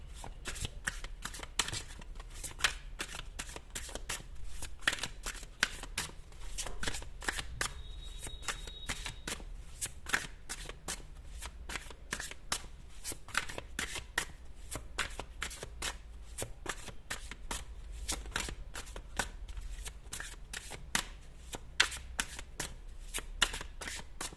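A deck of tarot cards is shuffled by hand, close and continuous, with rapid riffling flicks and soft card slaps repeating steadily for the whole stretch with no talking.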